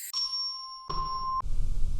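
Orchestral chimes sample from EastWest Composer Cloud struck twice, each a clear bright ringing tone that sustains before cutting off, the second followed by a busier beat.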